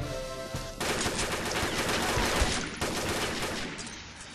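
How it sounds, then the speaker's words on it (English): Dense, continuous automatic gunfire from the online shooter Combat Arms, rapid overlapping shots at close range that hold loud and steady for several seconds after a brief quieter opening. "So I just tried to snipe someone by shooting them through like this cloth that's hanging up on in their spawn."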